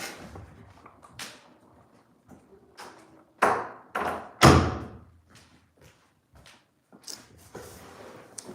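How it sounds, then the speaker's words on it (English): An indoor door closing in a quiet room, heard as a few separate thumps and a solid slam with a sharp ping-like ring, loud and near, with softer handling knocks between them. "Let me close this door."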